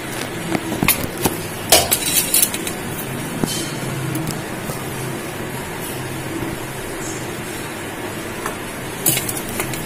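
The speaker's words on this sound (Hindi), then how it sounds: "देखिए मैं कैसे डाल रहा हूँ, 1 स्पून लेके इसके अंदर डाल दीजिए।" Idli batter is spooned into a metal idli mould, giving scattered light clicks and taps of the spoon against metal over a steady low background hum.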